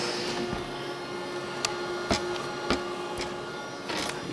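A Samsung ML1430 compact laser printer tries to feed a single sheet, giving a handful of sharp clicks and mechanical clunks over a steady low hum.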